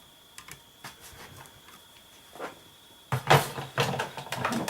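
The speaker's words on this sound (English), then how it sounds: "I'll put that through my Big Shot." Card stock with a multi-purpose platform, precision base plate and cutting pad is cranked through a Big Shot die-cutting machine, giving a run of faint clicks and ticks that swells into a louder, close grinding rumble toward the end.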